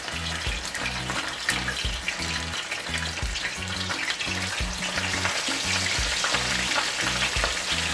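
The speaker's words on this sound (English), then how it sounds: "I'm going to allow those two to fry," Escovitch fish frying in hot oil in a pot, a steady loud crackling sizzle with bursts of popping throughout, no voices.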